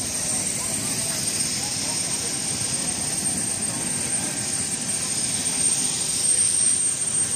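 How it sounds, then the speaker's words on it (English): An airplane waits at an airport in Dawei, its engines giving a steady, loud whining roar that holds constant throughout, with faint voices underneath. "Here's the airplane waiting."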